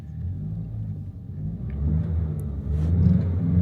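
A vehicle engine rumbling and revving under load as it climbs a steep road in Peru, its low drone gradually growing louder as it labors, with no talking.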